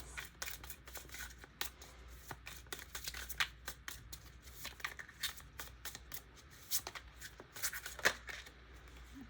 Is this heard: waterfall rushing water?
no